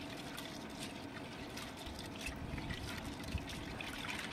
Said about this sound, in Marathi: आधी मी ही डाळ छान अशी स्वच्छ धुवून घेणार आहे